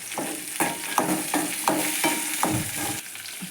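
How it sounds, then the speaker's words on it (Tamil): Garlic, dried red chillies and shallots sauté in a pan for a kara kuzhambu, with loud close sizzling broken by about six regular spatula stirs, each a quick scraping swish. "பூண்டு, வரமிளகா இதெல்லாம் போட்டு நல்லா வதக்கி விட்டுக்கலாம்."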